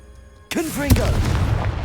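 Confringo spell blast in Hogwarts Legacy: after a short quiet lead-in, a sudden loud burst erupts with a booming impact and crackling rumble that lingers, mixed with a brief whooshing, swooping tone.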